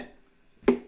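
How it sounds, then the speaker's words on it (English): A single sharp finger snap lands near the end, crisp and close, after a quiet stretch with a faint lingering tone beneath it during a ukulele lesson. "Start by snapping your fingers to the beat here."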